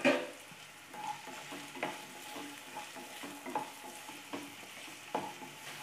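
Onions frying in a pan for Maggi noodle Manchurian, a soft sizzle broken by a run of spatula stirs and scrapes at an uneven rhythm, close and fairly quiet.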